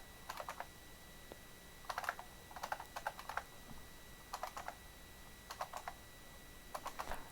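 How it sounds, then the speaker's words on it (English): Fingers type in short bursts on a computer keyboard, quick clusters of light clicky keystrokes separated by brief pauses, close and fairly quiet in a still room. "We're just going to start typing a few letters in."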